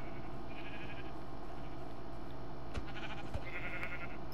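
Minecraft sheep bleat softly and intermittently in the video game, under a steady hum of background game ambience. A couple of sharp clicks break in partway through, and no one speaks.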